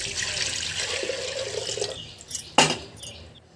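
Water pours steadily into a pot for a couple of seconds, then stops, followed by a few clinks and drips.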